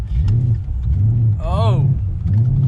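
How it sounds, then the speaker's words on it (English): Boosted car engine stalling as the driver flutters the gas, a loud low idle surging in repeated pulses with a sharp rising and falling whine in the middle, under excited speech. "I'm fluttering the gas to keep this thing on."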